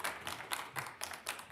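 Audience clapping in a county commission meeting room, a quiet series of about six or seven separate bursts of hand claps, close-ish and fairly faint, with no talking.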